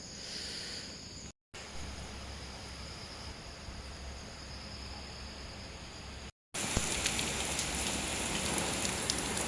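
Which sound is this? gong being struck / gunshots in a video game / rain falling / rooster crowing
rain falling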